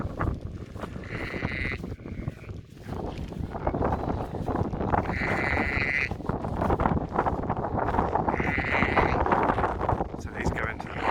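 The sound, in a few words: sheep bleating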